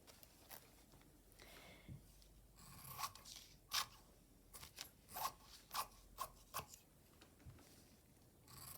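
Fabric being cut with scissors for a French dart sample: a series of close, crisp snips and crunchy cuts arriving in irregular bursts, with soft rustling between them in an otherwise quiet room.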